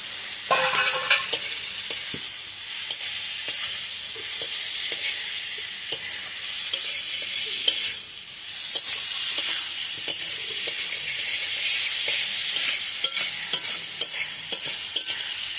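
Potatoes stirred into a spice masala and fried in a pan give a steady, loud sizzle with frequent scraping clicks from the spoon throughout; no one speaks.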